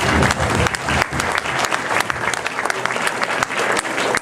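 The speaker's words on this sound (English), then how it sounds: "how about another round of applause for our former mayor" An audience at a community news bash claps loudly and continuously for a former mayor, a dense close applause with a few voices mixed in.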